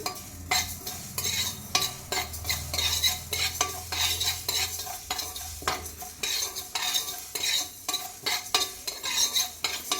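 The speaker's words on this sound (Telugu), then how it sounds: "మెంతులు అయితే కొంచెం ఎర్రగా వేగాలండి" Fenugreek seeds frying in a pan while being stirred continuously, with repeated scraping and clinking of a metal spoon against the pan over a soft, steady sizzle, close and fairly loud.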